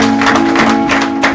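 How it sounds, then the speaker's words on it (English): Applause from a church congregation at a thanksgiving service, dense and steady throughout, with a sustained tonal hum or organ note underneath. "Can we clap for Jesus?"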